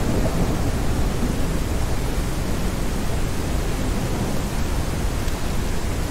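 Heavy rain with a thunderstorm rumble in the survival video game HumanitZ, a dense, steady wash of noise holding at the same loudness throughout, with no talk.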